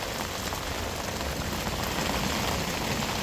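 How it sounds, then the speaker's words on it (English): Heavy thunderstorm rain pours down on a campsite in a dense, constant hiss that drums on surfaces nearby, loud and unbroken throughout with no voices. "We've got a full-blown thunderstorm overhead."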